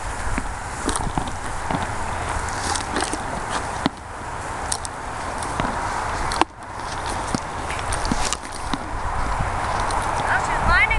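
A mare's hooves clop in a steady walking rhythm on hard ground while a person talks over them, with a few louder knocks and rustles.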